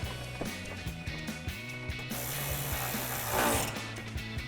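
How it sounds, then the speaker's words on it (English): A hand ratchet clicks in short, rapid bursts while driving a 7mm bolt into a trim piece on a 2020-2023 Silverado or Sierra 2500, close and crisp, with pauses between strokes. "we're gonna reinstall our 7mm bolt out of our trim piece"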